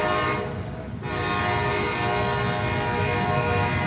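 A train horn blasts loud and sustained as a train passes close through a neighborhood, with a rich multi-tone chord held steadily over the rumble of rolling cars.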